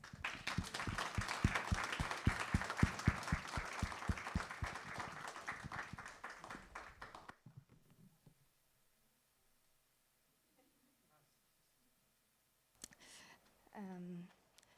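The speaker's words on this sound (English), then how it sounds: "give a round of applause" Audience applause at the close of a heritage panel discussion, a dense burst of many hands clapping for about seven seconds before fading into near silence, followed by a brief voice near the end.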